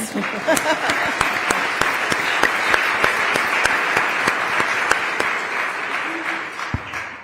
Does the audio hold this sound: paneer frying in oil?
no